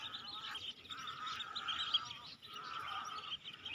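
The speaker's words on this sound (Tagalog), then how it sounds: "napakaraming ibon na nakababa, nanginginain dito sa mga patay na water lily." A flock of birds feeding on dead water lilies, calling in faint overlapping honking and chattering bursts from a distance, rising and falling in loose clusters.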